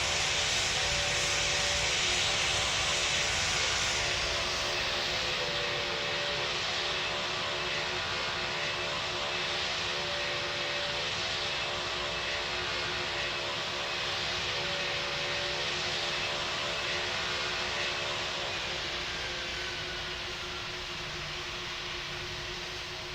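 Airliner jet engines whine and roar steadily on the runway in the PTFS flight simulator game, a loud, continuous broadband rush with tonal hums, slowly fading toward the end.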